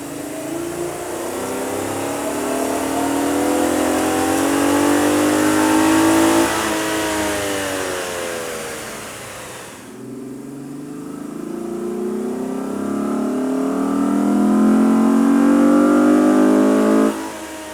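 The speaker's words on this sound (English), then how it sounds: "You can really see and hear the difference the K&N air intake system will make to your car." A Chevy Camaro 3.6L V6 fitted with a K&N air intake revs up twice, each time climbing steadily to a loud, sustained high-rpm roar before dropping back, heard close up with no talking.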